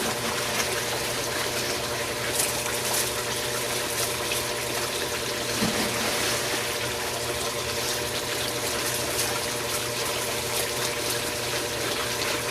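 Steady, unbroken rush of water pumped through a gold sluice box with a low mechanical hum beneath it, continuous and fairly loud throughout.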